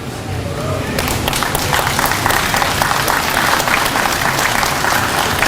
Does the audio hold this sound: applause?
yes